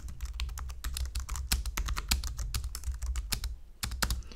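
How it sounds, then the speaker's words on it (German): Rapid, continuous typing on a classic Logitech computer keyboard, recorded close up: dense clattering keystrokes with no talking. "das ist eine Logitech-Tastatur."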